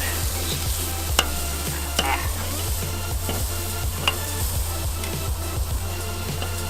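Steak searing in a hot pan as it is flipped, a loud continuous sizzle with repeated sharp scraping and tapping hits from the utensil, and a steady low hum beneath, with no talking.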